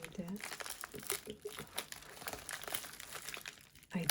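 Plastic wrapping on a Miami MD anti-aging skin care package crinkles and tears as it is pulled open by hand without scissors, close and continuous with small crunches, while someone talks over it.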